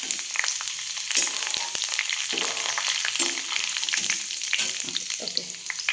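Chopped chilli, ginger and onion sizzling in hot oil in a pan, a steady loud crackle broken by scraping spoon strokes as the mix is stirred.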